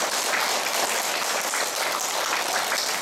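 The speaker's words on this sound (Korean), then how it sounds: "사랑의 박수로 감사합니다" Sustained applause from an audience at a Catholic charismatic prayer meeting in Incheon, a steady dense wash of clapping filling the whole stretch with no voices over it.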